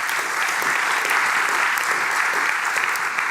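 An audience at a Dutch graphic design evening applauds designer Graham Sturt, a thick, even roar of clapping from a large room that continues without a break.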